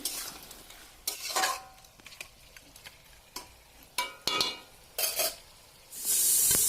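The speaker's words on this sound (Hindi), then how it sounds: "हल्दी नमक दे दिया अभी अच्छे से इसको फ्राई करूंगी" Turmeric and salt frying in a pan while a spoon stirs, giving a steady soft sizzle broken by repeated scraping bursts and clinks; loud near the end with a sustained hiss, no talking.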